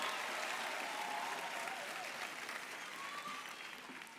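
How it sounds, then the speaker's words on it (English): Sustained audience applause at a university graduation ceremony where an honorary doctorate is being conferred, a dense steady clapping that fills the hall and fades slightly toward the end. "To the graduates, can we give them a tremendous round of applause?"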